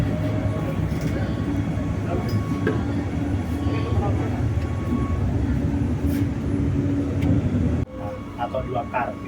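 An LRT train sits at the Pegangsaan Dua depot in Kelapa Gading, making a loud, steady rail rumble and hum close by. People talk over it, and the noise drops abruptly near the end.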